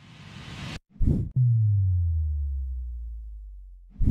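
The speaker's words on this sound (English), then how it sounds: "Also, I added a riser and a sub drop." A synth riser from FL Studio washes in as a noisy swell and cuts off. A deep sub drop then slides slowly downward for nearly three seconds and fades out alone.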